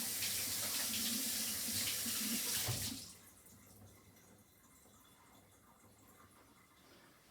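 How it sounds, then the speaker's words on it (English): A kitchen tap runs for hand washing, a loud close hiss of water splashing into a sink that stops abruptly after about three seconds, leaving quiet room tone. "Wash my hands."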